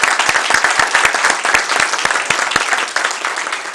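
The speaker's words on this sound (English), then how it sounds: "Would you join me in a round of applause?" An audience at a county school board meeting breaks into steady, close applause, dense clapping with distinct individual claps standing out throughout.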